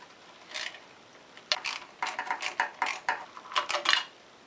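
A socket wrench ratchets while gauges are removed from a Suzuki GS850 motorcycle: quick bursts of sharp metallic clicking, first a short one, then several rhythmic runs close to the mic.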